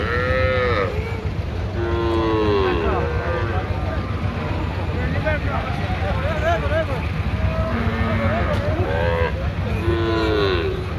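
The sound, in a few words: cattle mooing at village market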